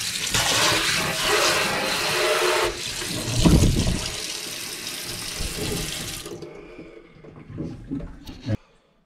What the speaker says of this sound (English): This is an American Standard Fairbury faucet